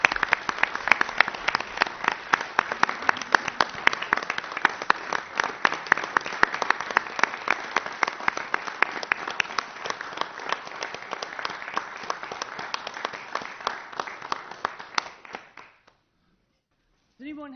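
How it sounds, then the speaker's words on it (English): An audience at a year-end meeting applauds firefighters Lammer, Smith and Bruce, a sustained round of moderately close clapping that runs about fifteen seconds before stopping abruptly, followed by a brief faint sound. "I think they deserve a big round of applause"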